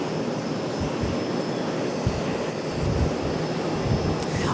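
A Boeing 737 MAX 8 jet at Charlotte airport produces a continuous, steady engine roar with strong low rumble, moderately loud and unbroken, with no voices over it.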